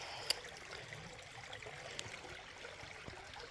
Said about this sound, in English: it's a nice creek